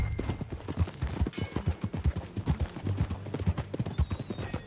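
Horse hooves clip-clop in a steady, fairly close rhythm during a ride in Red Dead Redemption 2, with a brief neigh or snort mixed in and no speech over it.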